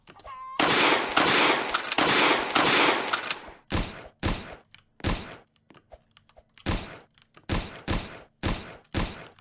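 Rapid automatic gunfire bursts from jump shooting in the Roblox game The Streets, first a sustained loud volley and then a string of short separated bursts with brief silences between.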